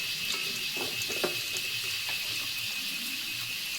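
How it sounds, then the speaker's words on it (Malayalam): Ginger and garlic sauté in coconut oil in a pan, producing a continuous even sizzling hiss with a few faint stirring taps. "ഇഞ്ചിയും വെളുത്തുള്ളിയും കൂടെ ഇട്ടിട്ട് അത് നന്നായിട്ടൊന്ന് മൂപ്പിച്ചെടുക്കണം."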